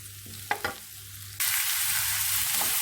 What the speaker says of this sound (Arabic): احنا دابا تنشحروا الدجاج بالملحه والابزار والزيت.